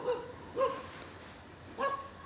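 A small dog in a rural village barking three times, short sharp yips spaced apart, fairly close and moderately loud against a quiet outdoor background.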